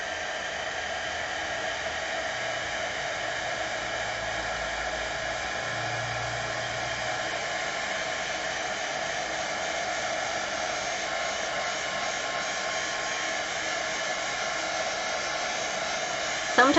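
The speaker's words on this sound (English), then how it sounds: "I'm going to hit this real quick with the heat gun" A heat gun blows steadily over a freshly stamped card, a continuous loud whooshing roar held almost unchanged throughout.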